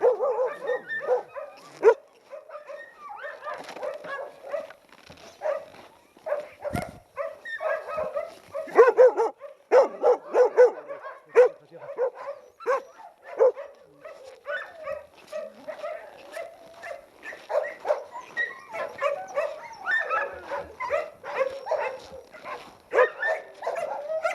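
Yakut hunting laikas in kennel enclosures bark and yip repeatedly, a dense, uneven chorus of several dogs at moderate distance, with whimpers mixed in and no talk over it.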